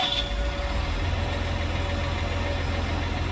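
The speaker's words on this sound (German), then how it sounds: "Motor starten, ja." A tractor engine in the Farming Simulator 19 video game settles into a steady low idle after starting, a continuous even rumble with no talk over it.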